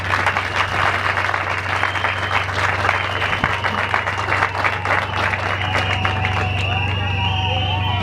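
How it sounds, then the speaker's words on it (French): A crowd at an official flag-handing ceremony for police commanders applauds vigorously, dense continuous clapping with a steady low hum underneath and some crowd noise, lasting several seconds. "je vous demande d'applaudir frénétiquement"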